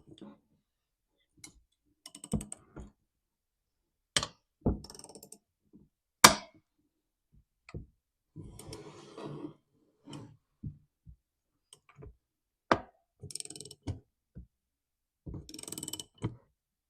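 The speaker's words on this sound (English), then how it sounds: "we're going to turn this, and this is going to push on the crankshaft, and it'll split these apart" Bar nuts on a tool are turned to split the crankcase of a Stihl MS 260 chainsaw, giving sparse metallic clicks and ratcheting ticks spread irregularly among quiet gaps, with someone talking in between.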